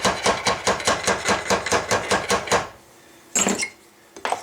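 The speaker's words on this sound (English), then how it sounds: "stick your mandrel back in there with it held nice and tight, and hammer those two ends together there a little bit" Metal ramrod thimble ends hammered together on a mandrel at a gunsmith's bench: a steady run of about a dozen sharp, ringing hammer blows at a quick even rhythm, then a pause and two brief metallic knocks.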